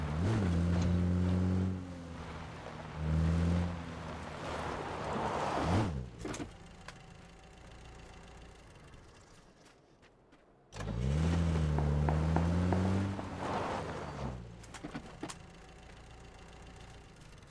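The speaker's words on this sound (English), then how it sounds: "Car." Car engine in the shooter game PUBG, a loud revving drone with rising and falling pitch that surges, drops to a quieter idle, then roars back up again.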